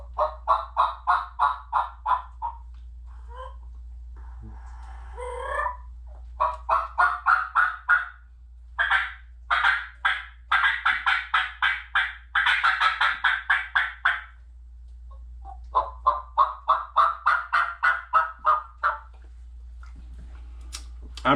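Hand-operated turkey call imitating gobbles and yelps: rapid rhythmic series of raspy calls in repeated bursts across the whole stretch, close and fairly loud over a low steady hum.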